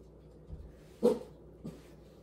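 A small dachshund gives one sharp bark in the background of a home kitchen, followed by a fainter second yip; both are quiet and somewhat distant against a low room hush.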